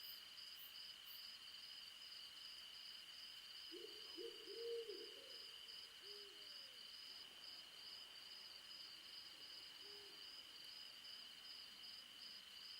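An owl hoots at night, a couple of soft low hoots around the middle, fairly distant, over a steady high insect drone and quiet background.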